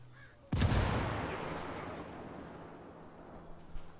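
Frag grenade detonating in Ghost Recon Wildlands, a single loud, close boom with a long rumbling decay that fades over several seconds, with a faint thump near the end.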